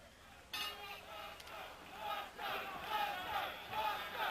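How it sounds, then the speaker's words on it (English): Boxing arena crowd chanting the fighter's name Buster during a heavyweight bout, a rhythmic swelling roar of many voices that starts abruptly and pulses in repeated waves, loud and fairly close. "And the crowd is chanting Buster."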